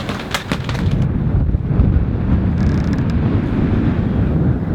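Strong wind roars and buffets against the microphone on an overcast, cold, rainy day while sailing off Mallorca, a loud broadband rumble that never lets up, with gusty hiss rising and falling.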